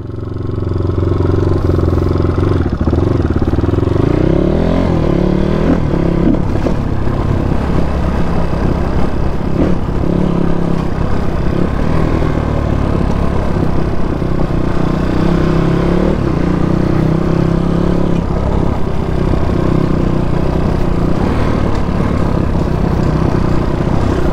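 A new motorcycle's engine runs steadily for the whole stretch, a continuous low, throaty drone with a slight rough clatter and small shifts in pitch, close and fairly loud.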